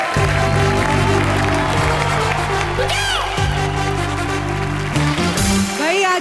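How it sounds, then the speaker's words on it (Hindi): A TV comedy show studio audience applauds two guests with steady, loud clapping and some cheering over music and a tonal sting, with a voice briefly heard underneath. "आप दोनों के लिए जोरदार तालियां।"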